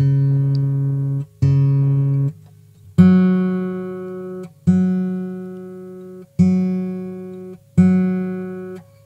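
A red-label Yamaha acoustic guitar rings out in slow single plucked notes and chords, six separate strikes each left to sustain and fade, close and clear with no talking.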